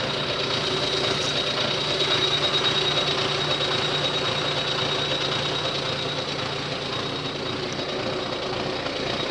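A tractor engine hooked to a folding KRN row-crop cultivator runs steadily with a dense, loud rumble and a constant mechanical whine throughout, with no pauses.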